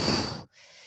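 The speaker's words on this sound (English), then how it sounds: "it's called a forceful exhalation. So it sounds like this." A single forceful exhalation, the kind used in Pilates breathing: a sharp, close breath pushed out hard for about half a second, a brief pause, then a softer, airy trailing breath.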